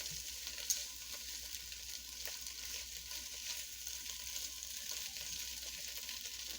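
Beef stew with caramelized onions stirred in an oiled pan, a steady soft sizzle of frying running throughout with faint scraping of the stir, close and even in level, no voices.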